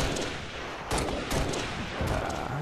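DMR rifle gunfire in the Halo Reach multiplayer video game, several loud sharp shots at spaced intervals over a dense, noisy battle background.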